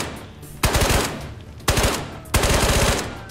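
Three loud, close bursts of rapid automatic gunfire in the game Ghosts of Tabor, each lasting close to a second and separated by brief pauses, with no talking.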